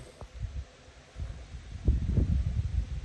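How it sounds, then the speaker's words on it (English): Outdoor wind buffets the microphone in low, uneven gusts while a snow sled for a Kubota tractor is being primed, rising stronger toward the end with no voices. "Can't keep a hat on this wind."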